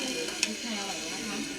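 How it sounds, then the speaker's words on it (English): A slice of ham sizzles on the hot top tray of a raclette grill, giving a steady close frying hiss with one small pop early on. "So this top tray is hot too, and you can just sizzle whatever you want."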